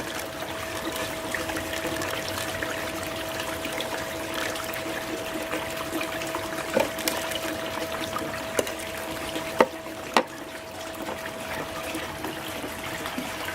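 Water from a hose rushing through a sluice while re-running gold tailings, a steady close pouring and trickling wash with a constant tone and a few small clicks, no talk.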